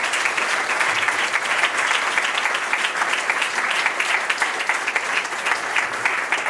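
Sustained, dense applause from a wedding reception audience, steady and loud throughout with no speech over it.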